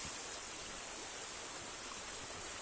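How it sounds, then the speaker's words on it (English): Floodwater rushes through a ditch in a constant, loud, broadband roar with no breaks and no voices. "Just absolutely amazing at the power of this water."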